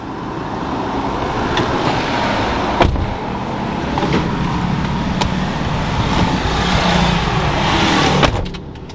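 A car engine left idling as a steady, moderately loud rumble throughout, with a few brief clicks and knocks on top and no talking.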